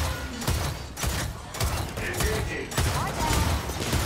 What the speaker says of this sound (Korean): 이거 점사를 해서 쏘는 게 훨씬 낫네